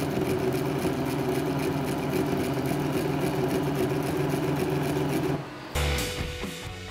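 A powder auger dispenser on a 3D printer runs in pulsing vibration mode, giving a steady mechanical whir with a rhythmic buzz. The whir cuts out briefly near the end, then returns louder and rougher.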